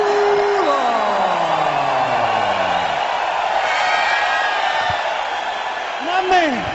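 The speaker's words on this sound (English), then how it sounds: "UFC debut in front of a raucous crowd" A raucous arena crowd in Edmonton at UFC 215 cheering after a unanimous decision, a loud continuous roar with a voice speaking over it.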